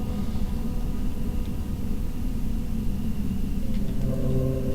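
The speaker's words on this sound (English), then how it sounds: "That was another car." A car passes at night on a road beside woods, a steady low rumble of engine and tyres that swells slightly toward the end, heard from the roadside with no talking.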